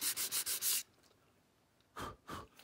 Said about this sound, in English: And I do that with a piece of sandpaper